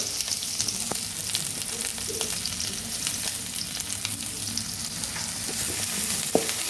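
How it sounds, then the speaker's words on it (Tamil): Big onions sauté in a pan on a home stove, giving off a steady, even sizzle with faint scraping stirs and no voices. "பெரிய வெங்காயத்தை போட்டு வதக்கணுங்க"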